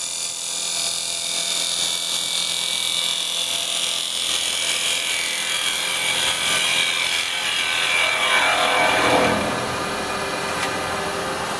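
A carbide cutter flat-cuts a small wooden bowl spinning on a lathe, giving a steady, close, hissing scrape that holds throughout with a rising sweep near the end; no one speaks.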